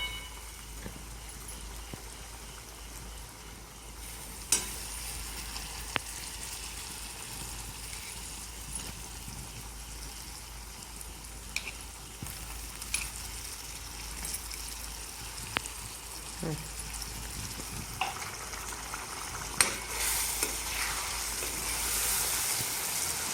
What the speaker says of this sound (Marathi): सतत ढवळत राहायचं, नाहीतर तिखट जळून जातं.